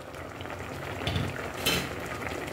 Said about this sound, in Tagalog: Na guys, kumukulo na.